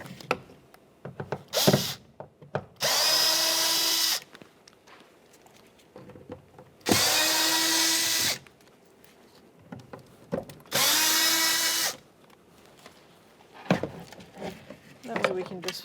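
A power driver whirs in three sustained bursts of a few seconds each as it backs out T20 speaker mounting screws from a Jeep Grand Cherokee door panel, with quieter handling clicks and a few spoken words in between.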